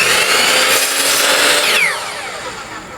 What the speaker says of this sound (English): here we're cutting the dowel into short pieces, just 1-inch pieces